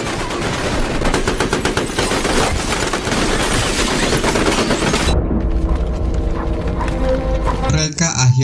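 Armed troops open fire in a film scene, loud rapid bursts of machine-gun fire crackling densely for several seconds before cutting to a lower rumble and scattered clatter.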